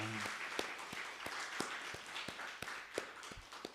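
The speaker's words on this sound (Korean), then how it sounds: "하나님께 영광의 박수 드리겠습니다." Congregation clapping during a Korean Sunday church worship service, a dense, steady round of applause with a few sharper individual claps standing out, moderately distant and continuous throughout.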